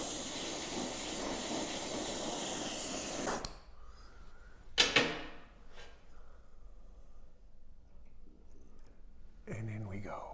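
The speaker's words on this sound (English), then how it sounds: "Quenching in old motor oil." A hot, handmade threading die is plunged into old motor oil, giving a sharp burst of hissing and sizzling after a stretch of steady noise, followed by quieter crackles and another hiss near the end.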